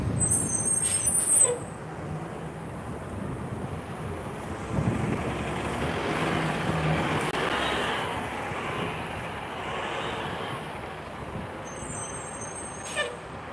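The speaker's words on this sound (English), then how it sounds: "those air brakes are amazing. I love the sound it makes when it stops." A Toronto TTC transit bus's air brakes hiss and sigh as it stops on route 50 Burnhamthorpe, amid engine rumble and wind noise, with a couple of high squeals at the start and end.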